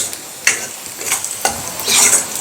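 Onion and tomato frying in a pan for a spicy Maharashtrian matki dal amti, with a loud sizzle broken by several sharp stirring scrapes at close range.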